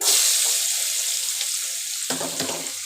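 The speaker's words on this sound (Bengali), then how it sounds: "এবার তেল গরম হয়ে গেছে কড়াইয়ে এবার আমি দেব পেঁয়াজ কুচি" Chopped onion dropped into hot oil in a wok sizzles loudly and steadily, with a fresh burst of crackling hiss near the end as more onion hits the pan.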